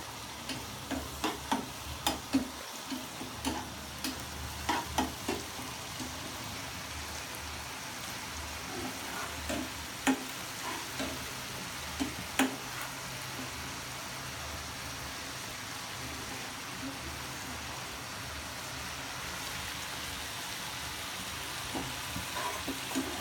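Onions fry in a pan at home with a soft, continuous sizzle, punctuated by small pops and occasional clinks of stirring, fairly quiet and without talk.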